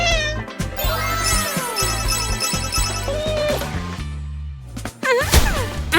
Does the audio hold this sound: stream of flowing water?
no